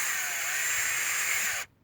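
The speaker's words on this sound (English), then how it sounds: "get it a little snug with the power drill" Power drill tightening a clamp onto poly irrigation pipe, a loud continuous whirring motor run that cuts off abruptly near the end.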